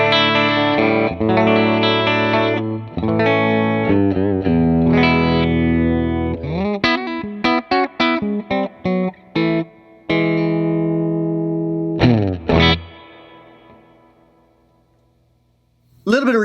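Clean electric guitar played through the normal channel of a Vox AC15 amp with amp reverb: strummed chords and picked single notes up close, ending on a ringing chord that decays to silence.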